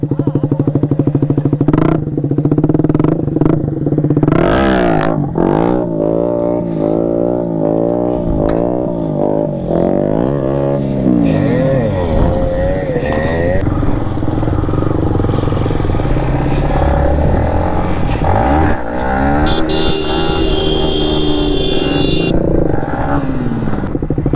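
A stock KTM NS 200 motorcycle engine during wheelie training, revving up and down repeatedly in close, loud surges with rising and falling pitch, plus some clattering and a burst of higher noise toward the end.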